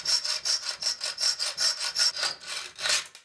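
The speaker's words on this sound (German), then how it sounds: "Gebt ein bisschen Öl auf die Schraube und fangt an zu sägen." A hand saw cuts through an oiled Spax screw clamped in a vise, about eight even back-and-forth strokes with a rhythmic metallic rasp, close and clear with no voices.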